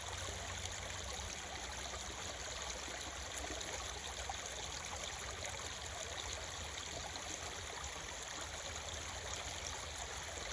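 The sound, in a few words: stream of flowing water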